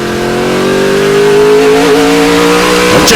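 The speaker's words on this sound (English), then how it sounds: "just hear the roar of that fantastic V8 engine fitted into these speed cars" The V8 engine of a Speedcar Series race car roars at full throttle during a 2008 race in the UAE, a loud sustained note climbing steadily in pitch as it accelerates past, with no talk over it.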